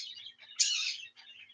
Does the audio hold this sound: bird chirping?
yes